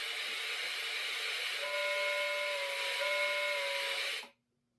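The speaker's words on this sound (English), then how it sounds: "Not the best sounding whistle, but it's working." A Lionel toy train's steam whistle blows as a breathy, hissing tone with a faint pitched note that rises midway, holds for a couple of seconds, then cuts off abruptly into silence.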